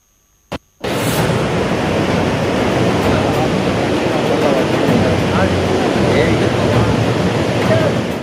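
The flooded Tungabhadra river surges near the Singatalur barrage at Hammige in Mundaragi taluk, Gadag district, producing a loud, steady, close roar of rushing water that starts after a brief click and continues unbroken.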